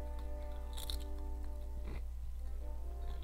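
Crunching bites of potato chips close to a microphone, a few sharp crisp crunches standing out over a steady low electrical hum.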